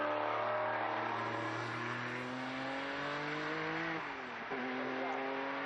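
A historic Ford Mustang Probe IMSA race car runs in a classic race at Estoril, its loud engine droning and climbing through gear changes with a brief shift dip, while commentary may sit faintly underneath.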